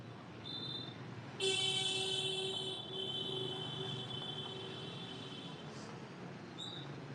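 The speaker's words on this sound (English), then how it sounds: "The honking here isn't as angry as the angry honking that you get in New York City." Car horns toot in street traffic in Hanoi's Old Quarter, a long steady horn blast sounding from about a second and a half in, with shorter honks before and after over a constant hum of traffic.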